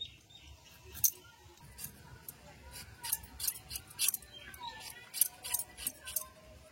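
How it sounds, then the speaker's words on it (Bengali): A knife cuts and peels raw green mangoes, giving a run of crisp, irregular scraping and slicing clicks close to the mic over a low background hum, with no talking. "এইভাবে প্রত্যেকটা আম আমি ছাড়িয়ে কেটে নিচ্ছি।"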